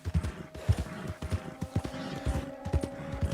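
Horse hooves clip-clop at an easy, uneven rhythm in Red Dead Redemption 2. The close, distinct thuds repeat steadily over a low, constant hum.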